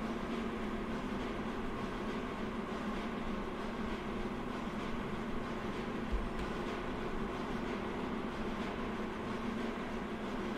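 A heavy freight train of about 2,000 tons in a train simulator game rumbles steadily and loudly throughout, a dense continuous roar of rolling wagons with no talk.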